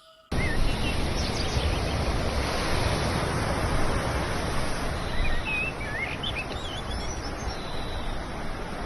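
Ocean surf rolls continuously against a rocky beach below steep coastal cliffs near a sacred cave, a loud, steady wash of breaking waves with wind buffeting the microphone and faint bird calls above.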